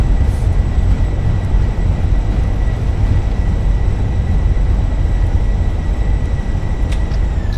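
In a Microsoft Flight Simulator landing, the Fenix A320's thrust reversers deploy and roar with a loud, steady, broadband rumble while the airliner decelerates on the runway, with no talk.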